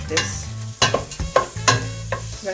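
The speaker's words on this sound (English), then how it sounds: "the butter melt, and then just let that saute for like about 30 seconds or so" Chopped onion, scallion and a sprig of thyme sauté in melted butter for Jamaican callaloo rice, with a close, low sizzle under a run of sharp, irregular spoon knocks and scrapes against the pot.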